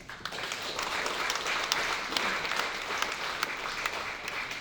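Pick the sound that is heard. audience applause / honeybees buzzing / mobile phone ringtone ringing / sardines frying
audience applause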